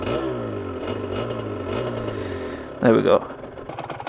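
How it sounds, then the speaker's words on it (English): An Aprilia RS125 two-stroke motorcycle engine with choke on runs with a buzzing, slightly uneven idle and a couple of small rev swells, heard through a helmet microphone, with a short spoken remark near the end. "But I love the sound of a two-stroke."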